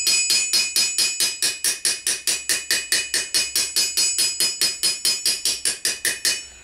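A large hammer taps lightly and evenly on metal armour to set creases. About two dozen bright, ringing strikes fall in a quick, regular rhythm. The blows are close and clear, with no talk.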